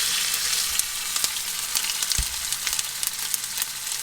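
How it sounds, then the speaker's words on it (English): Tuna sears in a hot pan with a steady, close sizzle and small popping crackles throughout, with no voices over it. "We're gonna let it sear for about 7 or 8 seconds."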